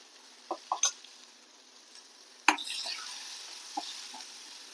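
Asafoetida and ground chili hit hot tempering oil with sharp crackling bursts and a steady low sizzle, several quick pops near the start and a louder spatter midway, close and without speech.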